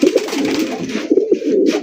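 Pigeons at a pigeon farm coo close by in a continuous run of soft, throaty calls, with a few louder coos rising from the group.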